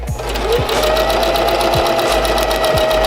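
A sewing machine stitching steadily at close range with its stitch length set short, a continuous loud mechanical whir with rapid regular needle clatter and no talk.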